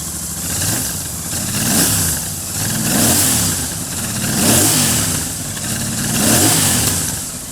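A Royal Enfield motorcycle engine being prepared as a race build revs loudly and repeatedly, rising and falling in four rhythmic surges over a steady close-up running note.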